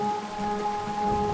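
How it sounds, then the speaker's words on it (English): Steady rain falls on a surface in an even, continuous wash, with a faint low rumble of thunder in the background and no voices. "underneath the sounds of the rain and the thunder"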